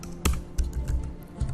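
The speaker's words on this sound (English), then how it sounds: "So you can start typing your text here." Keys on a computer keyboard clatter in a quick, irregular burst of taps with a few louder strokes, close and clear with no voices over them.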